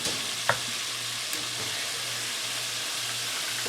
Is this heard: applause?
no